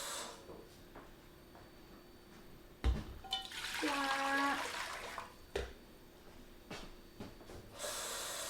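Water is poured into a pot holding four cups of brown rice, eight cups in all, with a brief gurgling pour amid kitchen clatter and a few soft knocks.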